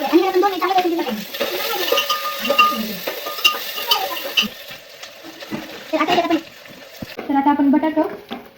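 Onion, tomato and ginger-garlic paste sizzle and crackle in a hot pan while being stirred, with intermittent spoon scrapes against the pan; a voice talks over the frying throughout.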